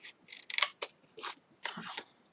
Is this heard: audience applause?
no